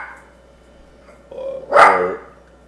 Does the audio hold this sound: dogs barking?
yes